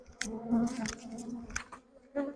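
Honeybees droning steadily inside a hive colony during queen introduction, a continuous close buzz with a few sharper rises and dips.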